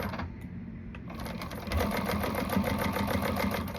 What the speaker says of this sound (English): we're going to top stitch this down